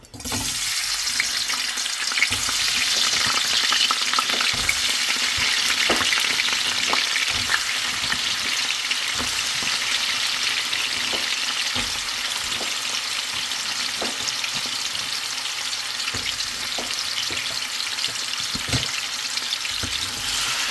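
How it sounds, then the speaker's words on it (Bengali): Lightly salted potato pieces fry in hot oil in a pan for khichuri, giving a loud, continuous bright sizzle with occasional soft clinks and stirring scrapes, close and steady throughout. "আলুটাকে হালকা একটু ভেজে নেব"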